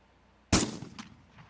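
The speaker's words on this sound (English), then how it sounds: "That was a gunshot." A single sharp gunshot cracks out of quiet, a loud sudden bang with a short echoing tail that fades over about a second.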